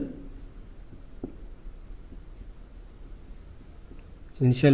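Pen or chalk writing out given data during a thermodynamics lecture, faint scratchy strokes with a sharp tap, under a quiet room hum, ending in a burst of louder sound.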